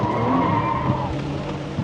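Car tires screech in a sustained skid while drifting on a rain-wet road, loud and close, with the engine droning underneath and no talk over it.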